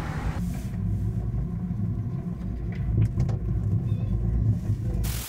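A 1966 Ford Mustang's engine rumbles in Yalta, a steady, loud, low growl that holds evenly for about five seconds before cutting off abruptly.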